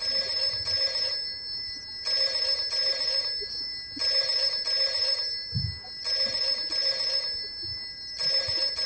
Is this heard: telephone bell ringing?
yes